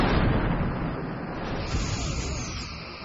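Torpedo launch in the space combat game Star Trek Bridge Commander, a dense, steady rushing hiss that gradually thins out, with no voices over it.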